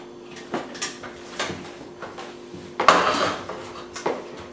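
Spatula and plate clatter as breakfast is served, with a few sharp clinks and scrapes, one louder knock near the end, close and without talk.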